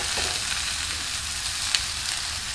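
Noodles for chicken chow mein stir-fry in an oiled pan, giving a steady, dense, close sizzle that stays even throughout the short stretch, with one faint clink and no voices.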